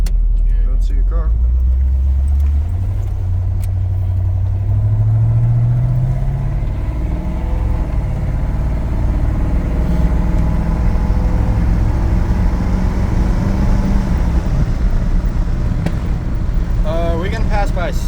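Old farm truck pulls away and drives, its engine rising through the gears with a low steady drone and wind buffeting the interior; voices talk over it at times.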